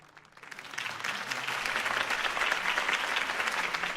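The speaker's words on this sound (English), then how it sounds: "If only Mr. Wayne, my campaign's largest backer, could have heard that applause" Crowd applause at a campaign rally speech, a broad steady clatter of many hands that swells in after a quiet start and holds loud and dense without a break.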